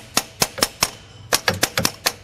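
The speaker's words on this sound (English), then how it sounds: "just give it some light hammer taps" Light hammer taps on a metal driver seating an injector cup in a 6.0 Powerstroke diesel: four evenly spaced clinks, a short pause, then a quicker run of about six more taps, close and crisp.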